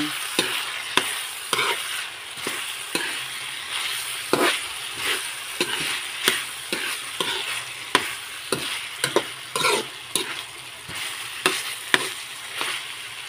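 Ground pork frying in a pan while being stirred, steady sizzle broken by repeated sharp scrapes of the spatula against the pan at an uneven rhythm, close and moderately loud.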